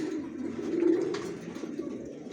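Racer pigeons cooing close by, a low steady throaty coo that swells and fades over a couple of seconds.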